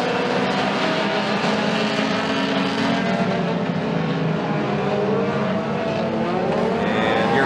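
Challenger-class race cars roar around the Stateline Speedway oval in a steady, dense engine drone with shifting tones as the pack passes, loud and continuous throughout.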